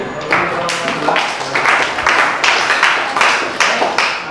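Classroom applause from students in a lesson, a patter of irregular claps building into steady bursts, loud and close, with talking mixed in.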